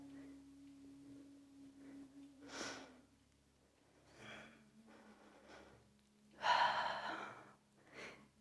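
Close, quiet breathing during a yoga movement exercise: a few slow audible inhales and exhales, one sharper and louder gasp-like breath near the end, over a faint steady background tone.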